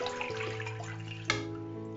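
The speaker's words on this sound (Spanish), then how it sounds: "así, echamos agua." Water pours steadily from a container into a baking pan set up as a water bath for an oven-baked custard, a continuous close splashing stream with a brief louder splash near the end.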